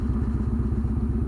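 A motorcycle with straight pipes idles close by, its loud, choppy exhaust pulsing in a fast, even rhythm with a slight clatter, alone and steady over the short stretch.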